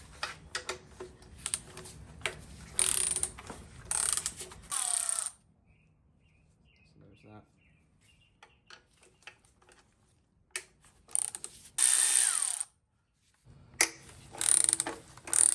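Rapid clicking of a ratchet wrench loosening 12 mm valve cover bolts on a Toyota 3.0 V6 engine, in several bursts, close up, separated by quiet pauses with faint metallic handling.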